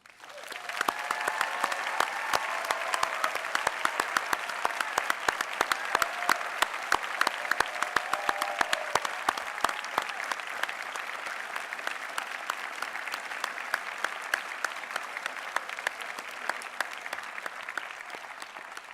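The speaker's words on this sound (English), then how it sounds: "won't you please join me in applauding them?" Sustained, dense applause from a large audience at a San Francisco State University graduate recognition ceremony, steady clapping with faint cheers early on, holding for almost twenty seconds.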